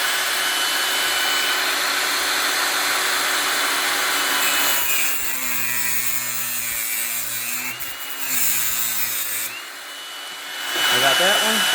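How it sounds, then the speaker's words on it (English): Cutoff wheel grinding through Harbor Freight metal during a Gen 5 Camaro SS oil cooler install, a loud continuous high whine and hiss that dips and returns as the cut proceeds, ending in brief rattling. "I'm going to take the good old cutoff wheel,"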